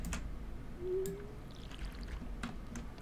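A crop is watered in a farming video game, giving a soft, faint pouring trickle over a quiet background hum, with a short tonal blip partway through.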